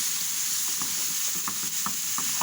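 Swiss chard sizzling in hot ghee in a pan, a steady close frying hiss with soft stirring clicks and scrapes scattered throughout.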